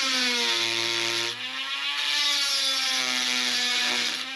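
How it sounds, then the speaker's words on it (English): A Dremel grinding wheel clears metal near a tight bolt on a HMMWV radiator install, giving a high, steady whine that dips briefly and shifts pitch as it bites, heard close and alone. "I'm actually gonna wind up clearancing a little bit with a just Dremel grinding wheel."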